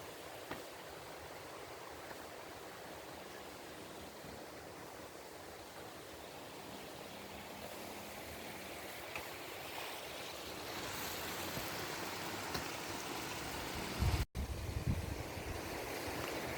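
A shallow, clear river runs swiftly over rocks, a steady broadband rush and gurgle that fills the whole stretch, with a brief close knock near the end.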